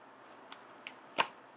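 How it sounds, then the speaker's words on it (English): Tarot cards being shuffled by hand, a few quiet, crisp riffling snaps and taps spaced apart, the sharpest near the end, with no talking. "So I am going to shuffle for a little bit until the first card pops out"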